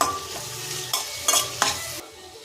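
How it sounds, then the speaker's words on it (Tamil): Onions frying in butter in a pan, a steady sizzle with several bursts of stirring and scraping before the hiss drops lower near the end. "அதே பட்டரில் இங்கே பாருங்கள் வெங்காயம் போட்டுக்கிறேன்."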